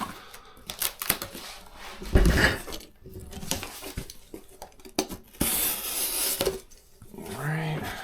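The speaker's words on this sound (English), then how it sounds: "We're going to tear this apart to get some cardboard out of it." A cardboard box is torn apart by hand, giving scattered rubbing, scraping and ripping noises with a louder tear near the middle and a brief voice near the end.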